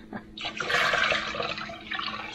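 Cold spring water from the tap pours steadily into a pot, a close, continuous splashing rush that fills for a couple of seconds with no voices.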